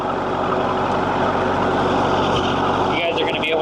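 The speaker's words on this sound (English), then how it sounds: "Literally the exhaust is right next to me" A welding rig truck's exhaust runs loudly and steadily nearby, a constant engine drone filling the background throughout.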